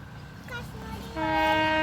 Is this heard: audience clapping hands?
no